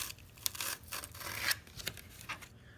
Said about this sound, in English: I got this foil to cut through, which is kind of a pain.